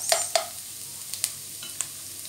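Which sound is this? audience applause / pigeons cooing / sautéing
sautéing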